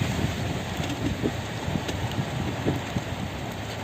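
Steady rain patters on a surface, a dense continuous hiss with scattered drop taps, no voices.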